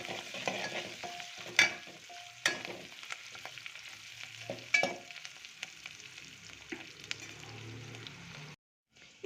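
Curry leaves and spices stirred into a pan for rasam: soft continuous sizzle with a few sharp spoon clanks and scrapes against the pan, fairly quiet and close, cutting out briefly near the end.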